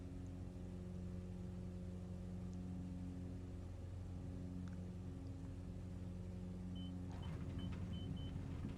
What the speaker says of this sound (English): There we go, engine is stable, we can release the brakes now.